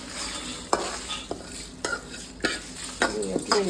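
Ingredients fry in a pan for a garlic chilli powder, a low sizzle broken by about half a dozen sharp scraping stirs of a spatula at an uneven rhythm.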